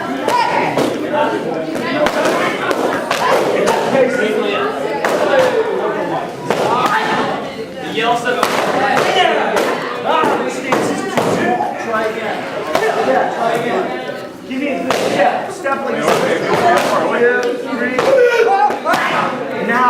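Martial arts pad strikes at a black belt instructors' camp, a dense run of sharp slaps and thuds landing in quick bursts under an instructor's shouted commands and a busy training hall.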